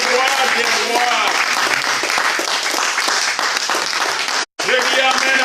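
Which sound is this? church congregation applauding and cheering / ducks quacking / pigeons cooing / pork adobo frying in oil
church congregation applauding and cheering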